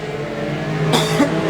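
Junior sedan race cars roar around a track in a steady, loud engine drone, with a rising rev and passing sweep of a close car near the end.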